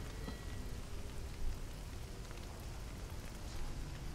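Rain from a spell in Divinity: Original Sin 2 hisses as a dense, steady patter of drops, moderately loud and unbroken, with no voices over it.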